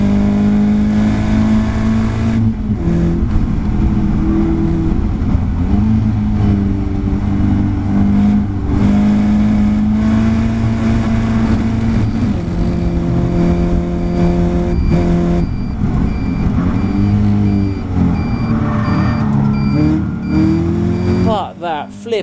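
Caterham race cars lapping Brands Hatch in an Academy race, several engines droning and revving loud and close for the whole stretch, pitch rising and falling with gear changes as cars run nose to tail.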